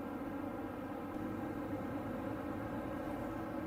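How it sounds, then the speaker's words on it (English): Turbocharged Mazda CX-50 engine heard from inside the closed cabin with windows up, a steady low droning hum and rumble that holds at an even level throughout. "You can hear the turbo."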